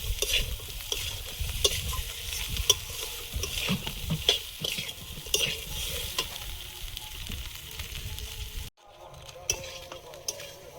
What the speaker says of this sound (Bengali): মাথাটা দিয়ে দেবো। মশলার সঙ্গে একটু ভালোভাবে কষিয়ে নেব